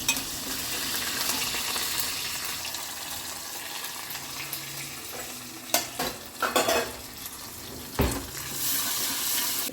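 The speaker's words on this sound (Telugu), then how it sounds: "ఆల్రెడీ ఉడకబెట్టిన కాబట్టి ఉట్టిగా ఫ్రై చేయడమే" Boiled vegetables for a simple curry fry in a pan with a steady hiss of oil, then a few sharper stirring scrapes break through near the end.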